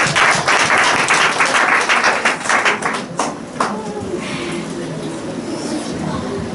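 A church crowd at a children's day service claps loudly and briskly for a few seconds, then the applause fades away into quieter murmuring room noise.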